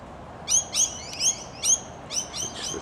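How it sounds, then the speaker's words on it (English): Rainbow lorikeet in a Perth suburb giving a run of about seven sharp, high screechy calls in quick succession, fairly close against a low background hum, with no one talking. "But yeah, Rainbow Lorikeet."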